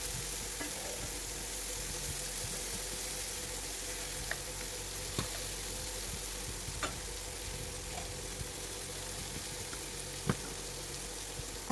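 Ivy gourd (kovakka) pieces fry in hot oil with a continuous crackling sizzle, steady and close, broken by occasional sharp clicks of a spoon stirring the pan.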